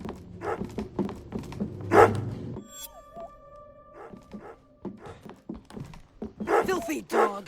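A dog barks and whimpers in the horror video game Remothered: Broken Porcelain, with sharp barks mixed among speaking voices and tonal game sounds, fairly close and loud.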